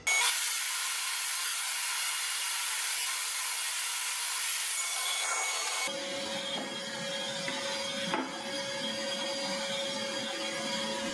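A table saw running loud and steady as a board is fed through on an edge jointing sled, the broadband whine of the blade shifting in tone halfway as the cut progresses, with no talking.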